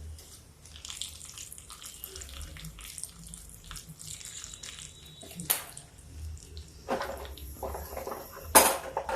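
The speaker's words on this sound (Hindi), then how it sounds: "ये देखिए जीरा मेरा हो गया, तड़कने लगा है।" Cumin seeds with bay leaf and cloves crackling in hot oil for a dal tadka: a soft, continuous sizzle dotted with small pops, plus a few sharp metallic clinks from a utensil nearby.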